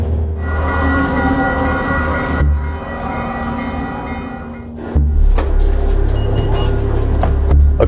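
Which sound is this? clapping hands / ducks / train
train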